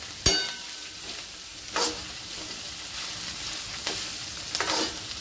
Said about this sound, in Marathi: इथे बघू शकता मी शिमला मिरची परतून घेतलेली आहे